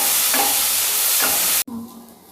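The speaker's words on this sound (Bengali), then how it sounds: "এবার এই তেলের মধ্যে আমি একটা মাঝারি সাইজের বেগুন লবণ আর হলুদ প্রায় 10-15 মিনিট আগে মাখিয়ে রেখেছি, সেটা দিয়ে ভালো করে বেগুনগুলো ভেজে নিচ্ছি।" Medium eggplant pieces, rubbed with salt and turmeric, fry in hot oil in a pan with a loud, steady hiss and a couple of soft stirring scrapes, before cutting off abruptly to a quieter low tone.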